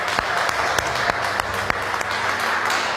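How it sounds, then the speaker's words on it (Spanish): A church congregation claps together, loud, dense and sustained. Sharp individual claps stand out from the steady wash of applause for all three seconds. "Dale un aplauso al Rey."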